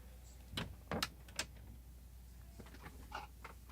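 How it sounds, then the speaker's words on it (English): An indoor room door is pushed closed, giving a few close clicks and a latch thud in quick succession, then soft handling noises in a quiet room. "I'm going to close the door"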